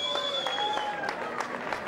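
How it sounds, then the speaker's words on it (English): A darts audience at a 2017 Gold Cup ladies singles semi-final gives a brief, fairly faint round of applause for the referee, with scattered claps under some background voices. "it does give us a chance for a round of applause"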